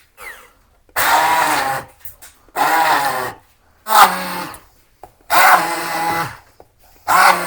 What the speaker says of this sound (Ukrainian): І зараз я знов його переб'ю блендером.